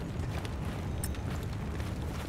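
Frag grenade explosion in Battlefield 4 close-quarters combat on Operation Metro, heard as a dense, continuous low rumble with a sharp burst near the middle, loud and steady throughout.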